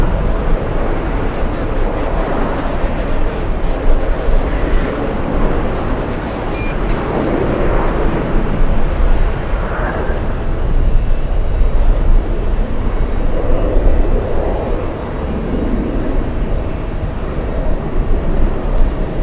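A Delta Air Lines jet arriving from Orlando at Boston Logan rumbles broadly and loudly, its roar swelling and easing in waves as it passes, with no speech over it.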